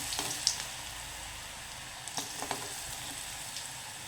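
Pieces of dried tapioca for a chili fry crackle in hot oil, giving a soft, steady sizzle broken by several small pops and spatters, with no talking.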